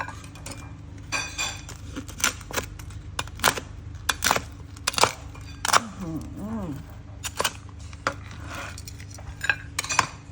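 Sharp, crisp crunching bites of crispy pork crackling repeat irregularly, close and loud against a quiet background, with a brief voice partway through.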